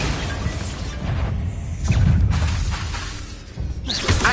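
Explosive blasting spells cast in the video game Hogwarts Legacy, with a heavy low boom swelling near the middle and a sharp shattering crack and debris near the end, loud and dense throughout.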